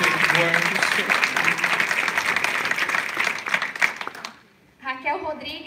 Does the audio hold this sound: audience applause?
yes